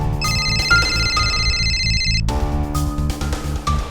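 A telephone rings in a TV crime drama, a loud electronic tone pattern that repeats in close, steady bursts, a bright trilling ring over a low pulsing bed, heard alone with no voices.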